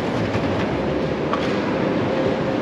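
Fast Sprinter express train heading to Frankfurt, heard from inside as a steady, loud rumble of wheels on rail with a continuous rolling roar and faint clatter throughout.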